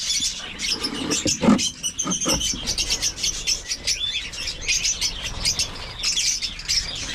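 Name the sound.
African lovebirds chirping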